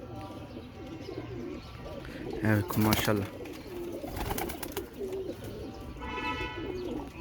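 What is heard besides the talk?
pigeons cooing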